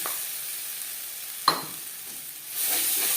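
Ground green peas, paste-like, dropped into a hot pan with asafoetida in oil, giving a sudden sizzle that settles into a steady hiss before swelling louder again; the filling is for Bengali pea kachori.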